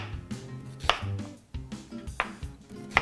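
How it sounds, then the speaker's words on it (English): An onion is rough-chopped with a knife on a cutting board for Spanish rice. Crisp, close knife strikes and thuds come in an uneven rhythm, with a few sharper chops standing out. "We're just going to do a rough chop here"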